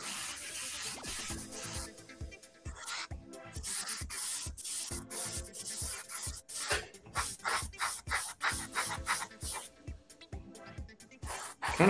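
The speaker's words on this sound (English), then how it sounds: "Airbrush and primer." An airbrush spraying primer onto model aircraft in rapid short bursts, each a soft close hiss, repeated in an uneven rhythm with brief gaps between and no talk.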